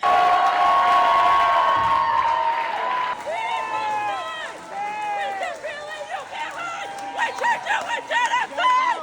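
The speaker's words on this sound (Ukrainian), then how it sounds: "Після початку промови у залі починають вигукувати гасла, вистрибувати на трибуну та підіймати палестинські стяги." A crowd in a hall at a Liberal leadership launch shouts in rhythmic bursts over a steady background murmur, with overlapping voices rising and falling throughout.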